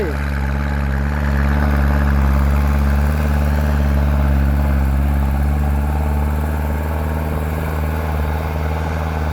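A Kubota tractor's heavy diesel engine runs steadily at about 2,500 rpm, a loud continuous low drone with throbbing harmonics that holds throughout.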